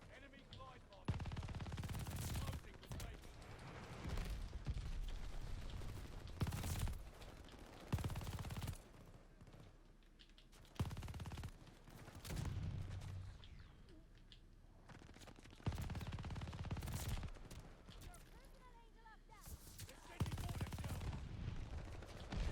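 An MG 42 machine gun fires in Call of Duty Vanguard, with repeated long bursts of rapid gunfire over about twenty seconds, loud and dense, while a person talks in between.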